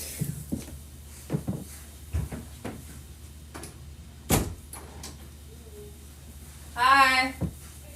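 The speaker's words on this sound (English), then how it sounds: "I'm going to close this door." An indoor door being closed gives a series of light knocks and clicks, then one sharp loud bang near the middle, with a short burst of voice-like sound near the end.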